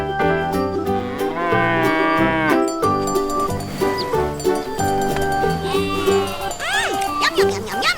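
Cartoon cows moo in a children's farm-animal song, the lowing mixed into bright, busy music that plays steadily throughout.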